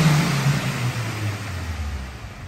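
A Hyundai Grand i10 Nios BS6 car engine revs up close, a loud mid-pitched droning rise that holds steady and then eases slightly over a few seconds.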